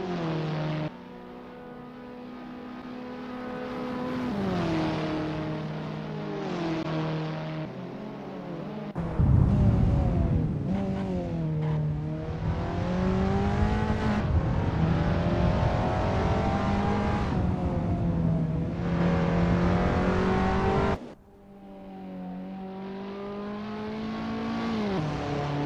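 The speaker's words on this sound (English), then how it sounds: "Jury U is getting to grips with the Abarth 500 Assetto Corsa in this practice session." Small Abarth 500 race car engine in the Assetto Corsa racing game, revving steadily with rising and falling pitch through gear changes, loud and continuous over about twenty-five seconds with brief dips when lifting off.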